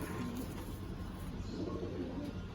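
Pigeons in a loft of white-tailed birds give low, soft coos that repeat steadily over a constant background murmur, with no voices present.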